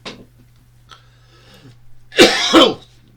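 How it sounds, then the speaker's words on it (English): A man coughs close to the microphone, a couple of faint throat rasps followed by two loud, harsh coughing bursts, with no talking around them. "I just can't shift this cough."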